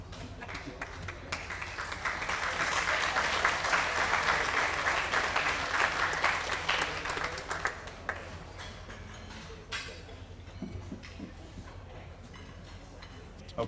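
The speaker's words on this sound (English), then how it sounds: "thank you all for the applause" Audience applause at a polo hall of fame induction ceremony swells over the first few seconds, holds as a dense wash of clapping, then thins to scattered claps near the end, with faint voices underneath.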